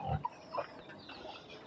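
Hungry pigs and piglets on a rural provincial farm give a few faint, scattered grunts and oinks at a distance while climbing for food, set against quiet outdoor background noise.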